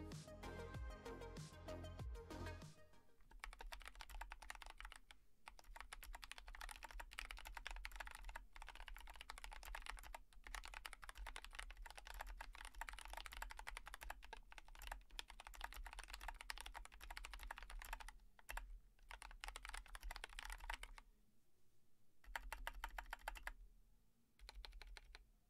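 Steady, fast typing on an AKKO Jelly Blue RK100 full-size mechanical keyboard with number pad, a dense run of close key clacks lasting over twenty seconds with a few brief pauses and no voices.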